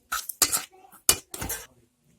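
A spoon clinks and scrapes against a bowl while thick pumpkin flower pakora batter is mixed with a little water. Four quick, bright strokes land close together, then stop.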